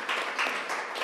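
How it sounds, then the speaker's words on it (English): Applause fills the room for the panel speakers at a G7 development cooperation event, a steady broadband clatter of clapping at moderate level throughout the short stretch. "I wanted to give a round of applause to our speakers in the room"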